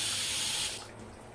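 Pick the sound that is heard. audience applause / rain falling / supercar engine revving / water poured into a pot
water poured into a pot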